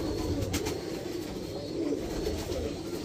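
A golden pigeon coos in a low, continuous rolling murmur, soft and steady with a few faint clicks over light background noise.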